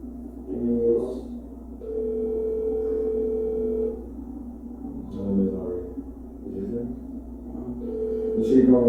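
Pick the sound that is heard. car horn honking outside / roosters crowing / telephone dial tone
telephone dial tone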